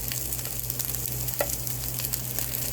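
Salmon sears in a hot pan with a steady crackling sizzle, fine pops and spits scattered over a constant frying hiss, close by with no voices.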